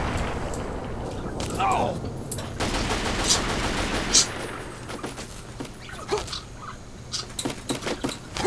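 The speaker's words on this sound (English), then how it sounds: "I have no clue what was shooting me out there" Gunfire cracks at the player in Fallout 3 around the Turtledove Detention Camp, a series of sharp shots and rapid bursts heard over a steady background while someone talks.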